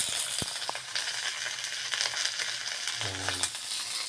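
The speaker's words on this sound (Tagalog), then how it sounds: "ginigisa ko muna yung sibuyas, kamatis, no? Sa konting mantika, no?" Onions and tomatoes sautéing in a little oil, a steady close sizzle with a few light stirring clinks.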